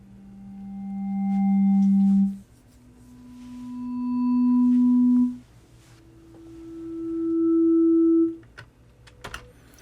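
Synthesized STK instrument programmed in ChucK, run through delays: three sustained pitched tones, each swelling slowly to full loudness and cutting off, stepping upward in pitch, with faint echo tails and no talking.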